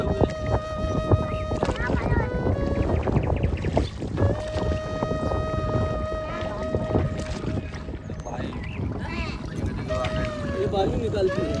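A boat ride on the river at Sangam, with a constant low engine drone and wind rumble, water and mechanical clatter, while people talk over it and a tonal hum runs beneath.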